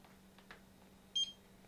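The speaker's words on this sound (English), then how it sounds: "Beep." A single short, bright electronic beep sounds from iPad repair equipment on a workbench, clear against faint background hum and soft handling noises.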